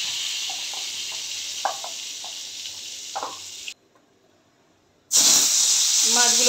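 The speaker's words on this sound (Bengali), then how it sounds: "এবার হালকা করে মাছটাকে ভেজে নেব" Hilsa fish frying in hot oil, a steady hissing sizzle with soft clinks and a voice talking over it, then a brief drop to near silence before a louder burst of sizzling returns.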